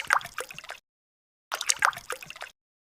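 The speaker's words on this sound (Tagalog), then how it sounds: "Naglagay lang ako dyan ng 3 basong tubig." Tap water poured from glasses into a cooking pot for a Filipino yellowfin tuna fish soup, heard as two short splashing, dripping pours separated by silence, close and moderately loud with no talk.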